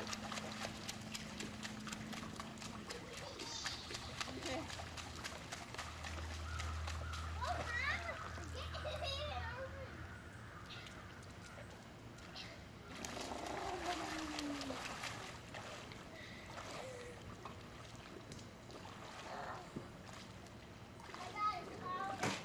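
Children splash and play in water, soft and somewhat distant, while children's voices and adult chatter run over most of the scene.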